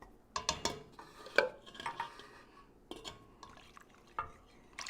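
A spoon stirs crab soup in a pot, giving scattered close scrapes and light metallic clinks against the pot in an uneven rhythm over a quiet background.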